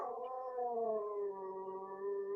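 Sammy the dog lets out a long, mournful howl, a faint, drawn-out wavering cry that slides slowly downward and carries on with no talking over it.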